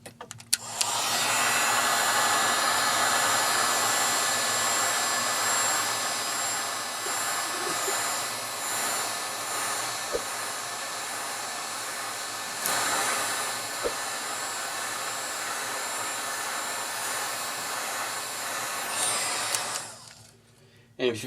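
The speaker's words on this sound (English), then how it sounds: "I'm going to turn the iPad around, and I'll heat down here where your Wi-Fi flex is going to be" Heat gun blowing on the broken screen edge of an iPad 2, a steady loud whirring roar that runs almost the whole time and cuts off near the end, close up with no speech.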